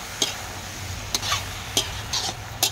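Vegetables stir-fried in oil in a pan, with tomato, cabbage, chilli, ginger, garlic and onion: a soft background sizzle broken by about five sharp scraping strokes of a spatula at uneven intervals.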